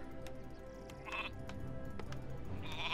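Sheep bleats from the Warcraft 3 video game, with two short high-pitched calls sounding close over game background noise and music.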